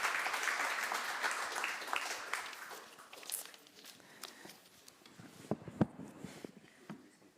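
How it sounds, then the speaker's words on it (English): An audience at a cleantech summit applauds a panel, starting full and fairly distant, then thinning into scattered claps and footsteps as the clapping dies away. "A round of applause for them,"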